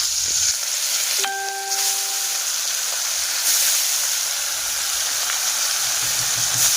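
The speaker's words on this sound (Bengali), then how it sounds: "এখন আমি মাছ ভাজাটা করে নেব" Rui fish fries in hot oil with a loud, continuous hiss and sizzle close by, interrupted briefly by a short tonal beep-like ring early on.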